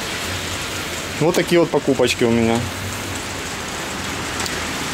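Steady nighttime rain in Alanya, Turkey, a continuous close hiss of falling drops with a person talking briefly over it partway through.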